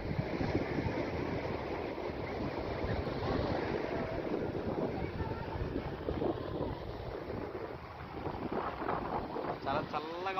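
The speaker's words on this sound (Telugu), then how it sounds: "కెరటాలు పెద్దవి వస్తున్నాయి అన్నమాట," Large waves roll in at Rishikonda beach in Visakhapatnam with a steady roar of surf and heavy wind buffeting the microphone, and faint voices come through underneath.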